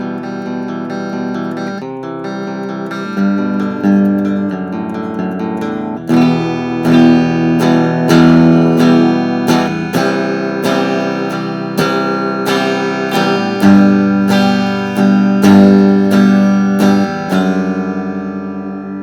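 Clean electric guitar on the bridge pickup of a Mexican-made Fender Telecaster, played alone as an improvised line of plucked notes and chords that ring and overlap, close and moderately loud.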